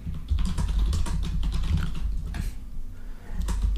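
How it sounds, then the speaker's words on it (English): Rapid typing on a computer keyboard, a steady run of close, soft key clicks over a low background hum, with a brief pause near the end before the keystrokes resume. "And as Matt's typing"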